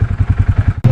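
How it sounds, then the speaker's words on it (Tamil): A close, loud ATV engine chugging in a steady rhythmic pulse of about eight beats during a desert ride among the sand dunes, then cutting briefly before a harsher, brighter burst of revving. "நம்ம ஏடிவி ரைடு வந்து ஸ்டார்ட்"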